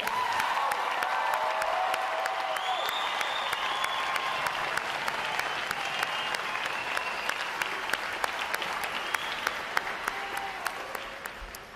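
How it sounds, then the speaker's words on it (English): Crowd applauding sailors at a Navy boot camp graduation, a dense sustained roar of many hands clapping from a large outdoor audience, steady and slowly fading over about twelve seconds. "Ladies and gentlemen, put your hands together for your American sailors out here today, please."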